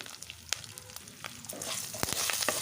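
Oil sizzles and crackles steadily in a pan as tempering spices fry with curry leaves and garlic, with sharp pops and spatters scattered throughout, growing busier toward the end; no voices.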